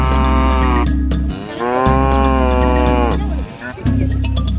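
Cattle at a busy cow market in Chad moo loudly and close by, one long drawn-out low call after another over a constant rumbling background.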